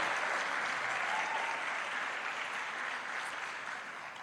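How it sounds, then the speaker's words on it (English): An audience at a launch event claps in a sustained round of applause, a dense even patter that fades slightly toward the end, heard from a moderate distance. "Can we applaud her again, please?"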